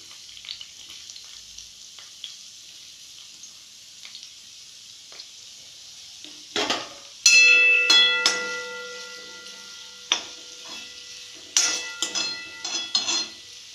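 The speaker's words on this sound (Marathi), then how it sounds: "तेल तापल्यानंतर आपण याच्यामध्ये कांदा घालून तो परतून घ्यायचा." Onion frying in hot oil and being stirred: a steady hissing sizzle runs throughout, joined partway by loud clattering scrapes and clinks of a spoon against the pan, close up, no voices.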